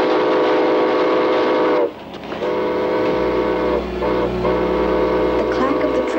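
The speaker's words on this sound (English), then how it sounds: "The clack of the train thundered in my ears" A loud, droning train sound with sustained whistle-like tones and low rumble, close and continuous, dipping briefly before resuming.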